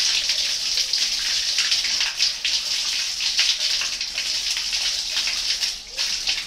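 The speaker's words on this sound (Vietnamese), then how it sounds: "Các bạn dùng vòi nước và các bạn xịt xuống" A hand-held water hose sprays into a toilet bowl with a steady, loud, hissing rush of water that keeps going throughout, and a voice talks over it.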